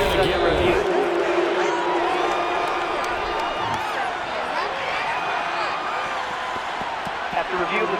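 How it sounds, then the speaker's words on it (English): Stadium crowd in the Madden 23 football game shouting and cheering while a replay is reviewed, a dense continuous roar with scattered whoops, loud and steady under commentary. "Plenty of shouts from this crowd as they watch the replay."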